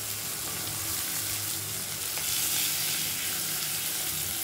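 Cumin seeds sizzling as they hit hot oil or ghee in a frying pan, a loud, continuous dense crackling hiss throughout with no talk.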